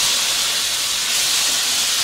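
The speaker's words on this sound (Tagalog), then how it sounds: "Painitin po natin ng konti ng ating mantika. Lutuin mo natin ang ating chicken breast." Chicken breast frying in hot cooking oil, a loud, dense, continuous sizzling hiss heard up close with no break.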